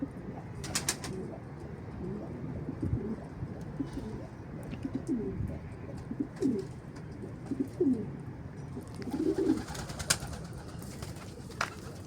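An Arab Çapar pigeon cooing nearby, soft low rolling coos repeated through the clip, with occasional wing flaps and faint chirps from other birds in the background.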